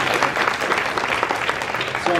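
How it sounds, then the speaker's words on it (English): Church congregation claps in a short, lively burst of applause, fairly close and loud, with a few voices rising near the end. "So clap, go ahead."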